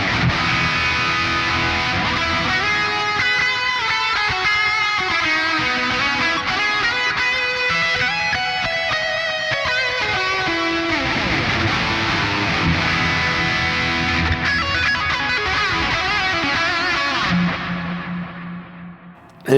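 Electric guitar played through a Kemper Mesa Rectifier profile with a ping-pong dual delay and reverb, a sustained distorted lead line ringing continuously with echoing repeats before cutting off near the end.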